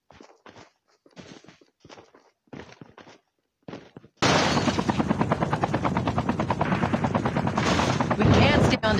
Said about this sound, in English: We can't stay on this chopper.